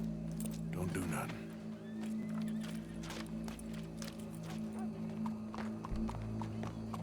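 Horse hooves clop and shuffle on the ground in the video game Red Dead Redemption 2, with a steady low background hum and people talking over the sounds.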